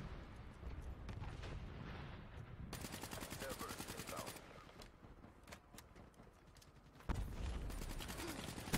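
Gunfire from a Call of Duty: Black Ops 3 Team Deathmatch match on PS4, with rapid automatic bursts and scattered shots running throughout, loud and continuous, with game voices faintly mixed in.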